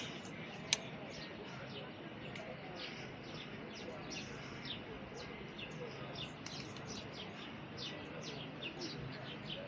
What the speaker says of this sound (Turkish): sizi güvercinlere yaklaştırayım